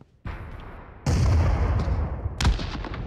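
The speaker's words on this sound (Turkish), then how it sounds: "Lan beni M79 vurdu ya" An M79 grenade launcher round hits in the video game PUBG Mobile, a sudden loud blast with a sharp crack and a second punchy burst, close and booming.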